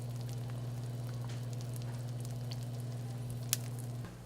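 Eggs frying in a pan for sweet potato hash, a steady soft sizzle with faint crackles and a low constant hum beneath, ending as the heat drops.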